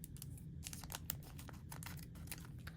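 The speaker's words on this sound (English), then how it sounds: "So take the potting mix, and then we'll cut it open." A bag of potting mix is cut open in a series of quick, crisp snips and plastic tearing and crinkling sounds, close up and continuous, with no talking.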